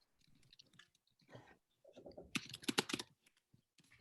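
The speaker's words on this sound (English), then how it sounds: "Here's some very fast typing." Rapid, loud keyboard typing in a burst of dense clicking keystrokes, with quieter scattered taps before and after.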